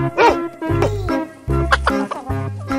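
A dog gives a quick run of close, loud barks and yips, several short bursts spaced across a few seconds, with no talk over them.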